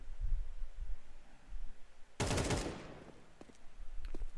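AK rifle fire in a Counter-Strike esports match on the Ancient map: a sudden sharp burst of shots stands out from a quiet background, followed by a few faint scattered cracks.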